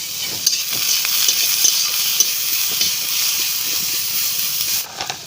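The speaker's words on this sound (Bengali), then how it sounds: "এই পেঁয়াজের উপরে আমি 1 চামচ লবণ দিয়ে দিচ্ছি, তাহলে তাড়াতাড়ি পেঁয়াজটা ভাজা হয়ে যাবে" Chopped onion with a spoonful of salt fries in a pan, giving a steady close sizzle and hiss with occasional stirring scrapes for about five seconds, with no talk.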